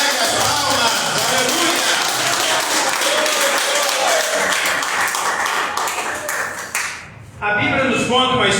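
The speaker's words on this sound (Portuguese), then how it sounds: "Assenta e bate palmas para Jesus, porque Ele merece." A church congregation claps hands together in a dense, sustained wash of applause, loud and near, with one brief dip before the clapping resumes.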